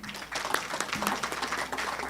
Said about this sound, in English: Please, let's give the panelists a round of applause.